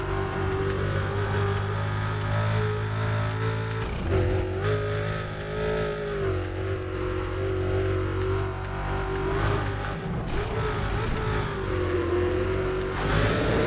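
A car accelerates hard in the racing game Need for Speed: Undercover, its engine drone climbing and shifting steadily through gears over about fourteen seconds, loud and continuous with no talk.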